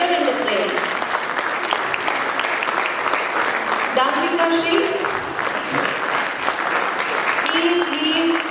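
Applause from the audience at a children's Balvikas cultural program for Easwaramma Day, dense clapping carrying on throughout while voices talk over it at moments.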